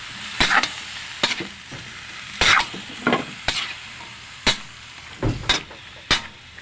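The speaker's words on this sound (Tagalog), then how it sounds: "Ilagay na natin yung gulay lahat. Masamahin na natin para lumambot." Mixed vegetables being stirred and sautéed in a pan, a series of sharp scraping stir strokes at irregular intervals over a faint steady sizzle, close and clear with no talking.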